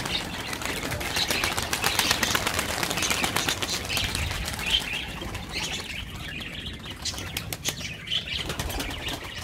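Rapid, fluttering wingbeats of pigeons taking off and landing nearby, with occasional chirps and soft coos in between.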